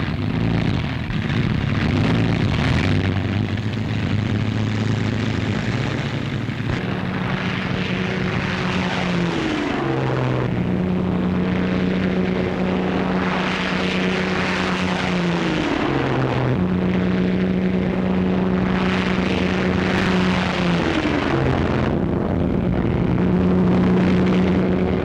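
Engines of WWII Marauder bombers drone loudly and continuously, a heavy propeller roar with a low, wavering hum that shifts in pitch as the aircraft pass.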